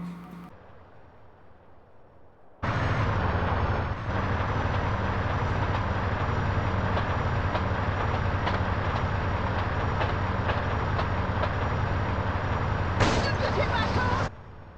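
A train in GTA San Andreas rumbles along, a loud, dense, steady roar that starts abruptly after a quiet opening and runs on before cutting off near the end, with a voice heard briefly early on.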